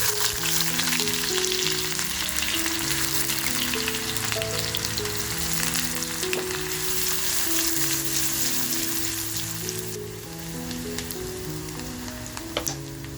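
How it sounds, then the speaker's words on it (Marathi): Chopped onion frying in hot oil in a pan, a dense, steady sizzle holding for the whole stretch, with a melodic music bed playing underneath. "तर बघा तेल आपलं छान तापलंय. कांदा जो कापून घेतलाय तो कांदा टाकते"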